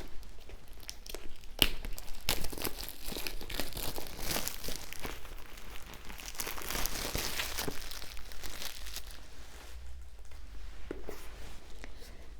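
Oracle card box packaging being unwrapped, close crinkling and tearing of wrapping with sharp crackles and rustles scattered throughout, fairly quiet and with no voice.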